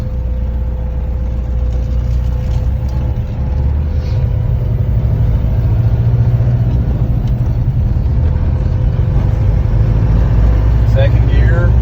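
A 1966 Ford Fairlane with a Cummins diesel engine driving on the road: a steady loud low engine drone with a sustained hum as it cruises and rises slightly toward the end, and someone talking over it.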